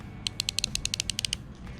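A ratcheting crimping tool clicks in a quick run of about a dozen sharp, close metallic ticks, evenly spaced, then falls silent against a faint background hum.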